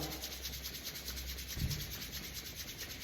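Palms of the hands rubbed together quickly during a warm-up, a steady close swishing friction that runs continuously with a brief louder scrape partway through.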